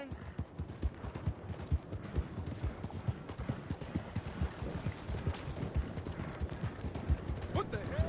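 Steady clip-clop of horse hooves from Red Dead Redemption 2, rhythmic and continuous at a trot or gallop, with faint gunfire-like pops and a brief whinny mixed in near the end.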